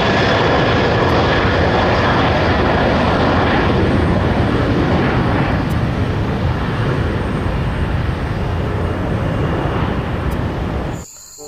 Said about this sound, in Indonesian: ini pesawat terbang.